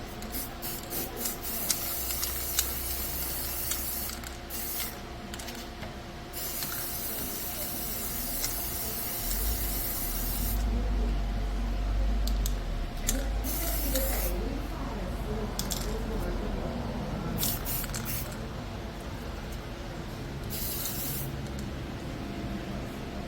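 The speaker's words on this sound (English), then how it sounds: "so I'm going to spray paint them" Bursts of aerosol spray paint hiss in repeated short and long blasts, close by, over a faint steady background hum.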